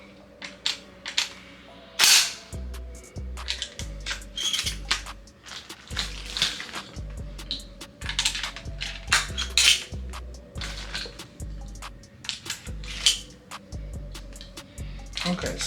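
Shotgun shells are loaded into a semi-automatic shotgun with a string of sharp metallic clicks and clacks, irregular and close, mixed with handling noises of the action and magazine.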